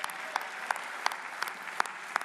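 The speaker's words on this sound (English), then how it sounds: "Can we clap hands for our excellent MCs?" Soft, steady applause at an award ceremony, honouring the MCs, with a few sharper individual claps standing out at regular intervals above the dense patter.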